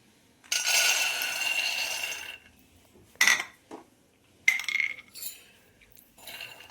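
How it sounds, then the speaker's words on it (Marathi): Peanuts are dry-roasted over low flame in a kadhai. The nuts rattle and clink against the metal pan in several short, close bursts separated by brief silences. "आपल्याला कढईमध्ये हे 2 ते 3 मिनिट लो फ्लेमवर भाजून घ्यायचे आहेत."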